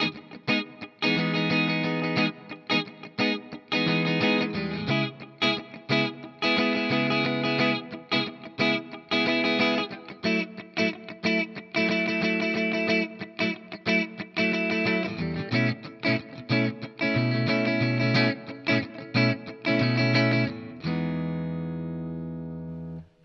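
Guitar playing a chord progression with a syncopated strummed rhythm pattern, steady and loud for over twenty seconds, ending on a ringing chord, no talk.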